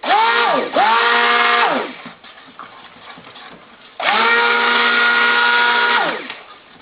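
A temperamental stick blender mixing soap batter whirs loudly in two long bursts, its motor pitch sagging and rising, with a quieter pause between them.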